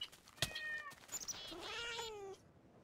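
A cat in the Minecraft Technic modpack meows twice in quick succession, the second call longer and drawn out with a rising then falling pitch, close and clear with a sharp click just before.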